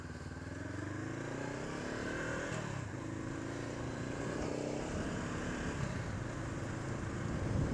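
A 2013 Honda CB500X motorcycle engine drones steadily while riding, its pitch rising and shifting as it accelerates, with wind rush over the ride and no talk.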